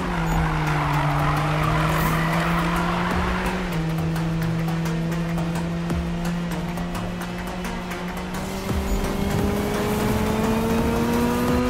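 A car in the Need for Speed racing game drifts through a long slide, its tires squealing steadily over a droning engine whose pitch slowly climbs, loud and continuous with no voices.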